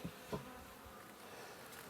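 Honey bees in a hive hum faintly in a low, continuous drone, with a couple of brief louder passes near the start.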